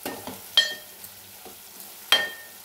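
Tomatoes in a pan for egg curry get stirred with a utensil, giving a few scraping strokes and two sharp clinks against the pan over a faint background.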